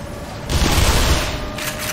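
A burst of gunfire from shooting enemies in Black Mesa, a short loud rattle of rapid shots that flares up then fades within about a second.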